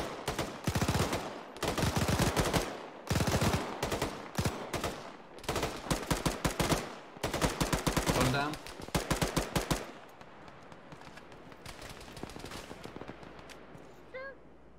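Sustained bursts of automatic gunfire in the Arma 3 military shooter, rapid loud volleys repeating for about ten seconds, then a quieter stretch with distant shots and faint radio-like chatter.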